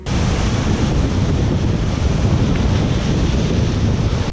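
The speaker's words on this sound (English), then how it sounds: "It's nice to hear the waves as well" Sea surf rolling onto the shore in Pazin, Croatia, a steady broadband wash that stays loud and continuous throughout, with wind buffeting the microphone on top.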